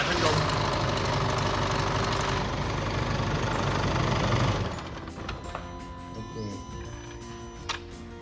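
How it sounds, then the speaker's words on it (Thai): The engine of a 2012 Isuzu D-Max runs loud and steady after starting during cooling-system work, then drops to a quieter, even idle hum with faint clicks. "สตาร์ทเครื่องครับ เดี๋ยวจะดูกำลัง"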